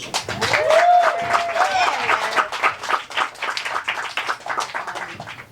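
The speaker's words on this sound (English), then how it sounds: "So give it up for Casey." Audience applause and clapping for comedian Casey at a stand-up comedy festival in New York, rising quickly and holding steady for several seconds, with a voice briefly heard over the clapping near the start.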